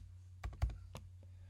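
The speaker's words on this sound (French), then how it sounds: "je suis obligé d'y aller au clavier" Keys tapped on a computer keyboard in a layout session, a short burst of four or five close, crisp clicks over a low steady hum, no talk.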